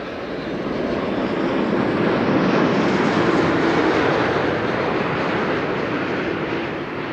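Boeing 777 freighter jet at Amsterdam Schiphol Airport, a steady loud broadband engine roar holding for several seconds with a slight swell in the middle, no voices over it.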